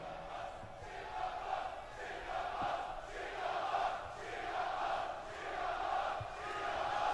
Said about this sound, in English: The crowd's getting loud over here.